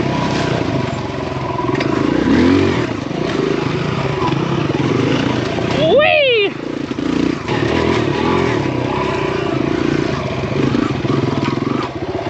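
A Kawasaki KLX140RF dirt bike engine drones steadily as it climbs a hill, with a brief higher rev swell partway through and some clatter over the running engine.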